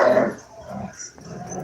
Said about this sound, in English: He's a husky. They are vocal.